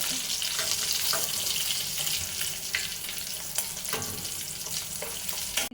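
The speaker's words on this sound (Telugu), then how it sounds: "ఇదిగోండి మనము చక్కగా ఫ్రై చేసి పక్కన పెట్టుకున్న ఫిష్ ముక్కలు అండి" Pieces of fish frying in hot oil for a fish biryani give a steady, close sizzle throughout, with occasional crackles and light stirring or water-like sounds mixed in.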